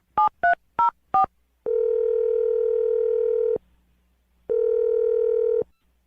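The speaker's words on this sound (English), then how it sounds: "I'm going to dial her phone number right now." Four quick touch-tone telephone dialing beeps, then two long steady ringback tones separated by a pause, clear and close with no talking.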